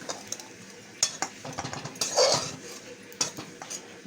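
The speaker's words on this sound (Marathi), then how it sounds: "बोंबील चांगले भाजलेले आता आपण काढून घेऊया, पूर्ण काढून घेऊया." Roasted dried Bombay duck fish is lifted out of a pan, with close, irregular scraping and clinking of a utensil against the metal and a few sharper taps, and no talk.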